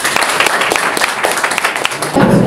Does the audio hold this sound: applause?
yes